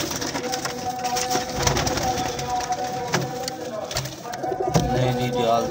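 Soft cooing of net-patterned pigeons repeats close by amid rustling and background noise, with a voice speaking now and then.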